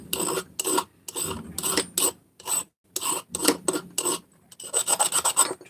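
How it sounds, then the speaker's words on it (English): A metal edge is deburred with a hand file, giving repeated short rasping strokes in an irregular rhythm with quiet gaps between, close and fairly distinct. "Just deburring it."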